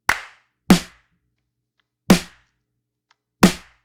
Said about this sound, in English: just adding a clap and a snare.